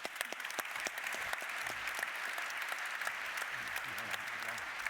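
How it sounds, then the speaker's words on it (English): Crowd at a live tech keynote applauds presenters, steady dense clapping that continues evenly throughout at moderate distance, with faint voices mixed underneath. "Please give them a round of applause."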